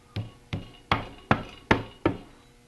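Six sharp metallic hammer taps on a Rotax 582 engine part, at a slow, even pace, each ringing briefly before the next, close and clear with no voices.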